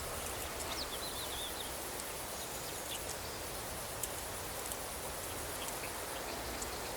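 Steady rain falls in the video game Banishers: Ghosts of New Eden as an even, hissing wash with faint scattered drips and ticks, heard alone at low volume.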